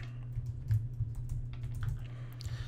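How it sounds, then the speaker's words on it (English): Fingers type on a computer keyboard in a quiet office. Soft, uneven key clicks sound close and faint over a steady low hum, with no voices. "if I could type properly"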